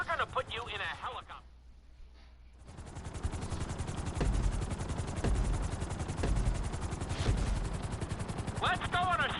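A helicopter in the video game GTA whirs with a steady, loud rotor drone that fills most of the stretch, joined by sharp bursts resembling gunfire, with a voice speaking at the start and end.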